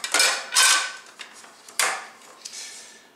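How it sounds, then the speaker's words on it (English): A 9-inch metal springform pan with a release latch is handled, producing several sharp metallic clanks and rattles in a loose irregular sequence, close and fairly loud. "Springform pan has a little latch that releases the bottom."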